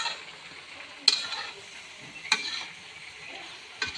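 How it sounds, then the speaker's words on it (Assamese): Vegetable curry is stirred in a pan over an outdoor firewood fire, with a low steady fry under three distinct scraping strokes of the spoon at spaced intervals, close up and without talk. "এই বাহিৰত আমাৰ ভণ্টি চব্জি বনাই আছে, খৰিত কি বঢ়িয়া কৰে"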